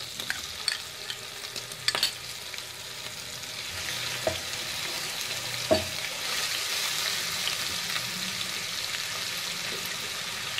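Onion paste sizzles in a pan over already-browned garlic-ginger paste, part of making mutton kofta, with a steady close fry and occasional stirring scrapes, no voices.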